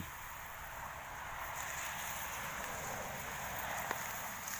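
Steady rain falling outdoors in rural Thailand, a dense continuous hiss that stays even and close throughout with no voices.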